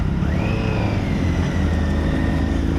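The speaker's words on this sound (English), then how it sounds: "Today I'm riding Honda's 2016 CBR 1000 RR 2016" A 2016 Honda CBR 1000 RR sportbike riding on Dunlop Sportmax Q3+ tires, its engine a steady loud drone with a rising whine under heavy wind roar, close and continuous without speech.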